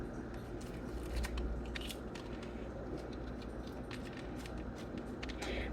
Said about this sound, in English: what we first gotta do is take the core with a spoon